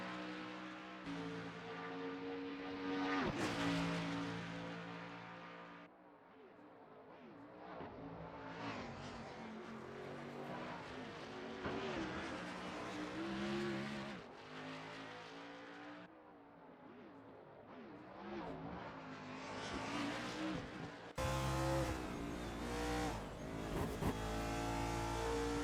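Race cars lapping Road America in a racing video game: loud, continuous engine roar with rising revs and gear changes, cars sweeping past one after another, steady and close throughout.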